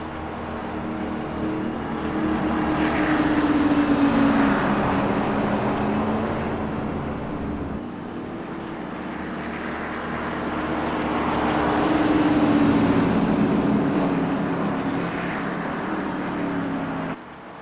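Race cars rumble around a track after the pace car pulls off, with engine noise building and fading in two long passes that sweep by at moderate distance.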